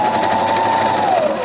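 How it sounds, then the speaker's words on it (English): Sewing machine running back and forth over elastic held under the presser foot while making pajama pants, a close, steady mechanical hum and needle chatter that winds down toward the end. "take your elastic over to your sewing machine, and we're gonna put it right under the presser foot, and we're gonna go back and forth 3 times"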